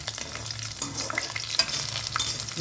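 Garlic frying in hot oil for a cauliflower fry crackles and sizzles steadily up close, with busy bright spattering and faint stirring scrapes throughout.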